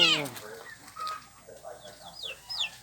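Chickens on a small backyard chicken farm, with a brief loud squawk at the start followed by soft scattered clucks and chirpy calls from several birds close by.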